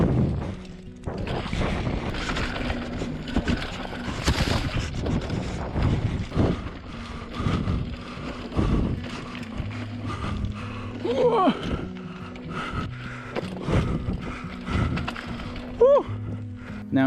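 A mountain bike rides downhill, recorded on a GoPro action camera: continuous wind buffeting and rushing air with rattling, clattering mechanical knocks and occasional creaks, loud and close throughout.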